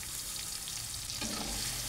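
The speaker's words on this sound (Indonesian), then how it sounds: "Saya tumis bumbunya tadi." Spice paste sautéing in about three tablespoons of frying oil, a steady close sizzle and crackle with stirring scrapes, growing a little louder partway through.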